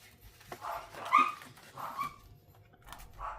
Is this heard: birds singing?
no